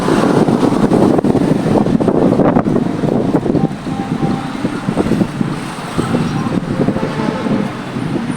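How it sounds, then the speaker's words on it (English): Wind gusting along a Nairobi street, a loud continuous roar that eases slightly partway through, with faint passing traffic underneath. "So windy."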